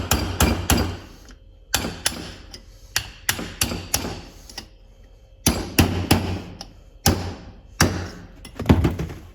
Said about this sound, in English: Don't ever hammer on a good bearing like that.